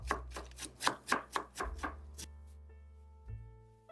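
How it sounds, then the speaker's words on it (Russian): A knife finely shreds cabbage on a cutting board, about nine quick crisp strokes, then stops, leaving quiet room tone. "Тонко нашинкую капусту."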